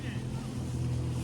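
A boat motor drones low and steady during a river ride on the Narmada at Omkareshwar, a continuous close rumble with voices faintly mixed in.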